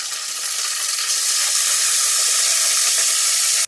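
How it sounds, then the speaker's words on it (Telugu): Eggplant pieces fry in oil for an Andhra-style mixed vegetable pachadi, making a loud, dense, hissing sizzle that holds steady close by, then cuts off abruptly at the end. "వంకాయలు కూడా ఒక నూనెలో వేయించుకుంటే బాగుంటుంది."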